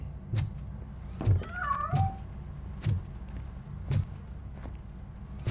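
A single cat meow in the video game RoboCop: Rogue City on PS5, with a rising then falling pitch, heard among regular thumping footsteps or knocks in a quiet room.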